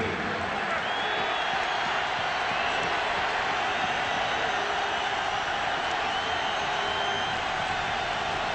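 A Miami stadium crowd at a 2008 Ravens at Dolphins wild card football game gives a broad, continuous roar, steady and distant-sounding, under a commentator's voice.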